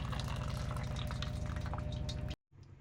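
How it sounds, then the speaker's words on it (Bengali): Water draining off steamed taro (kochu) flowers, a steady close rush of pouring liquid that cuts off abruptly near the end, leaving a quieter trickle. "জলটা ঝারিয়ে নিচ্ছি।"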